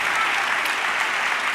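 An audience at a Galician reading clubs gathering applauds, a dense, steady burst of clapping that stays even and loud throughout.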